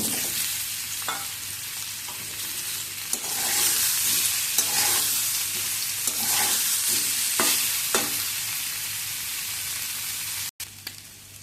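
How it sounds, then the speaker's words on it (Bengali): Potatoes with salt frying in hot mustard oil, a loud, continuous sizzle close by, broken by occasional spoon taps and stirring scrapes, cutting out abruptly near the end. "এবার তেল গরম হলে এর মধ্যে দিয়ে দেব নুন এবার এর মধ্যে আলু দিয়ে দেবো"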